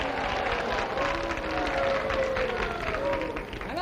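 An audience claps steadily for a relief band at a live televised variety show, a dense, even spatter of applause lasting a few seconds and fading slightly at the end.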